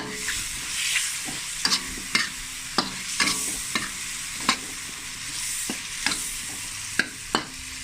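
Sugar and seasoning are stirred in a hot cooking pan with a utensil, giving repeated scraping clacks at an irregular pace over a soft continuous sizzle, close and moderately loud, with no talking.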